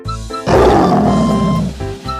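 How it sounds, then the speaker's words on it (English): A tiger lets out a loud, close, rumbling roar lasting over a second, set between shorter harmonic animal sounds before and after it. "Tiger,"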